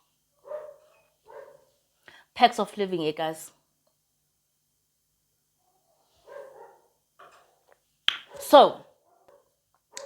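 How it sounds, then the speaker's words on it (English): Dogs bark in a street in Johannesburg's central business district, a burst of several quick yelping barks near the start and another sharp pair later, with someone talking in the gaps. "Oh my God, the dogs."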